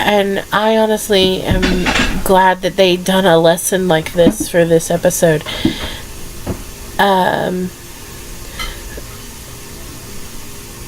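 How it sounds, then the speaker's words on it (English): Dishes being washed in a home kitchen, clinking plates and cutlery clattering in the background beneath someone talking, with running water hissing faintly. "Sorry about the noise in the background. The dishes are being washed in the kitchen."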